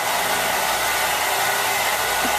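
A hair dryer blows continuously and loudly, a steady close whooshing roar with no breaks or talking.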